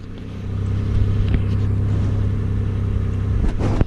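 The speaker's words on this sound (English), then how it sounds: "Car's running." A car engine idles with a low, steady rumble close by, a brief clunk near the end.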